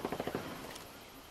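A quick burst of rapid gunfire, about five shots in a row, in a Ghost Recon PvP match, sounds at moderate distance and then fades into a hollow echo.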